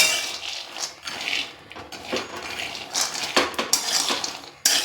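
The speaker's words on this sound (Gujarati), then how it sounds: "ફેરવતા જાઓ એટલે આપણે દાણા છે ને શેકાઈ જાય।" Peanuts being stirred as they roast in a pan for a peanut sweet, a busy, close clatter of nuts and spoon scraping and clinking against the metal, loud and continuous with no talking.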